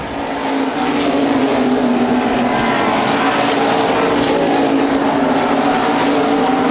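USA Modified race cars roar around the oval at Lucas Oil Raceway in Indianapolis, a loud, steady engine drone holding through the whole stretch with no break or fade.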